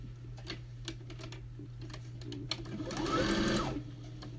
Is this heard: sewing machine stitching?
yes